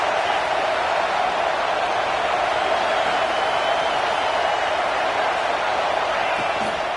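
A stadium crowd at a college football game in EA College Football 26 roars with a steady, dense wash of cheering and noise, loud and continuous throughout without a break.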